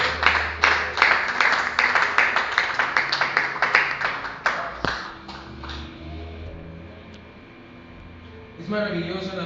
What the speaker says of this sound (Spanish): Denle un aplauso bien bonito a nuestro Dios que está aquí en este lugar.